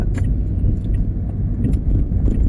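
A car speeding along a dark early-morning road in Chiang Mai, a close, steady engine and tyre rumble with light rattles on top, passing loudly and without a break for a few seconds.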